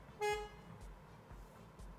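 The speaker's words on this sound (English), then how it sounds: "this is the base model, which also gives it a base model horn" A single short horn toot from a base-model 2023 Peugeot 308 Hybrid Active Pack, thin and fairly faint, followed by quiet low thumps.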